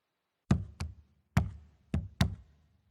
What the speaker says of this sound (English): They're literally hitting tree trunks.